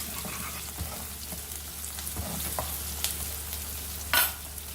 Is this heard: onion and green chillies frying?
yes